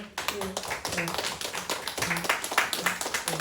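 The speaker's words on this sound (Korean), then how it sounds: "우리 박수로 한번" A church congregation at a Sunday worship service claps in an irregular patter of hand claps, with voices mixed in among the applause.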